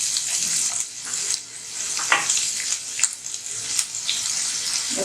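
Garlic sautéing in a pan during a stir fry of Chinese cabbage and chicken sausages, giving a steady bright sizzle with scattered crackles and a few louder spits, close and without talk.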